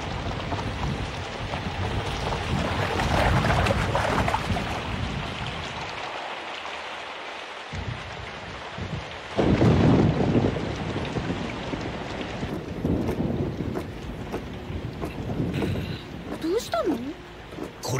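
A sudden heavy downpour in an anime scene: a dense roar of rain with swells and dips in strength, a brief quieter gap midway, and characters speaking over the rainfall.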